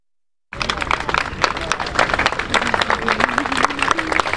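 Members at a board meeting applaud after an annexation vote, clapping bursting in suddenly after a brief silence and continuing as lively, uneven applause with some voices mixed in.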